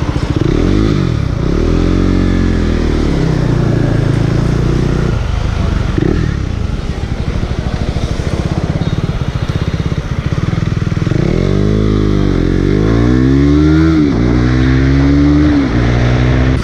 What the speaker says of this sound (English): a slightly louder exhaust, but this sounds amazing